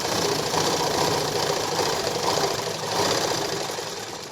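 A sewing machine stitches a straight line along a katori blouse, a steady, close mechanical whirring with a rapid needle rhythm that runs without pause.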